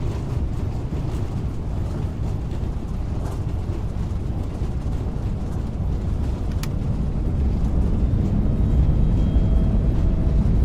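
Loud, steady low roar of thrust reversers on an FSLabs A321neo during landing rollout in MSFS 2024, a broad rumbling wash that holds and swells slightly toward the end, with no voices over it.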